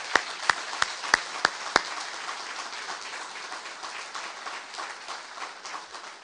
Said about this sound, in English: provide a round of applause for both of them